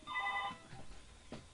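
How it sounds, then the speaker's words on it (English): A telephone rings with a bright, steady electronic tone lasting about half a second, then it stops, leaving faint room noise and a brief soft knock. "Sorry about this, I got a phone call."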